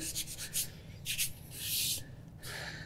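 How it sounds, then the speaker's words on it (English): Hand rubbing over a metal brake part cleaned with carburetor cleaner, close squeaky and rasping friction strokes in short bursts and a longer sweep, fairly faint. "Even if I rub over it again here with the other hand,"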